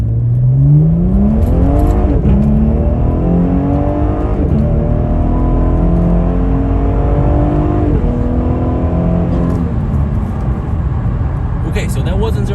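A tuned LF4/LF3 Cadillac engine roars through a hard zero-to-sixty pull, loud and close, its pitch climbing in repeated sweeps through each gear change with brief dips at the shifts.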